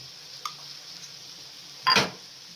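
A spoon stirs turmeric, coriander and pepper powders into a sautéed onion base for chicken mappas curry, with a faint soft sizzle and one brief scraping stir near the end, close up and without speech.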